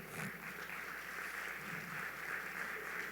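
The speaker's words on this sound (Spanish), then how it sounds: "Dele un fuerte aplauso al Señor" A church congregation applauds during a Spanish-language sermon, a faint, steady wash of clapping that holds evenly for a few seconds with no voice over it.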